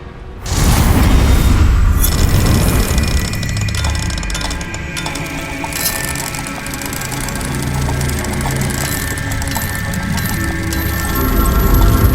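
Confringo fire spells cast in the Hogwarts Legacy game, a loud, dense run of booming blasts and crackling impacts with rumbling low end, continuous over mixed game effects and music.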